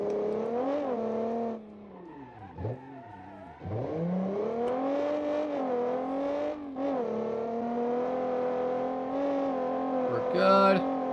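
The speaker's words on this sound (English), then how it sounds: "I think a car with an engine this loud would be pretty deafening pretty quickly" Loud engine of a Lexus sports car running with no mufflers, revving steadily with rising and falling pitch sweeps, close and continuous with brief drops between pulls.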